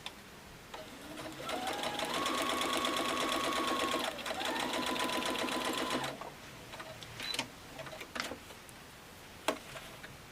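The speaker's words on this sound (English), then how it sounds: "Now we're just going to take it over to the sewing machine and we're going to sew right on that line." A sewing machine stitches quilt binding in a fast, steady mechanical whir for about five seconds, with a rising hum as it speeds up and a short pause in the middle, followed by scattered clicks and handling sounds.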